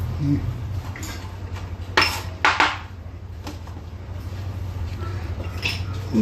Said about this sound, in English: Filter எடுத்து வச்சுக்கோங்கம்மா.